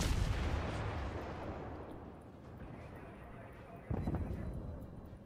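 Warship guns fire in World of Warships, a loud rumbling barrage that slowly dies away before a second booming salvo. Someone talks quietly under the noise.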